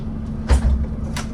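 The driver shuts the doors of a PKS bus, a quick pneumatic hiss and soft thump over the steady idling engine, followed by a second brief puff of air moments later.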